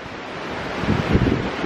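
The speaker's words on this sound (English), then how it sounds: "And it's pretty windy." Strong wind buffets the microphone on Lion's Head in Cape Town, a steady, close roar of gusts that swells briefly toward the end, with no voices.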